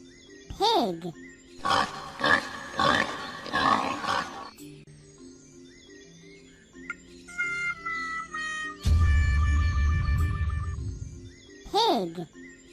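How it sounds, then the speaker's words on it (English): Several loud, rough grunts and oinks from a farm pig come in quick succession, with light musical tinkling and a low rumble after them. "Pig."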